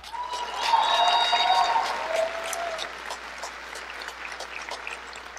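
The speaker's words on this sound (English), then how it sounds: "So another round of applause for Will." Applause from an audience at a 2023 high school graduation at East Hollywood High School, a moderate burst that swells then fades into scattered claps over a few seconds, with faint vocal tones near the start.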